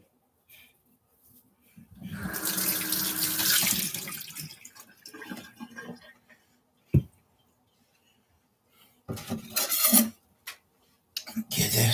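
Tap water runs steadily into a kitchen sink as a skillet is rinsed, a loud broadband rush lasting a couple of seconds, then short splashes and clatter. A voice is heard briefly.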